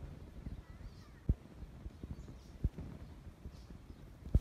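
A horse at a farm clops its hooves in an uneven rhythm, with a few sharper knocks standing out over quiet outdoor background, fairly near and without speech.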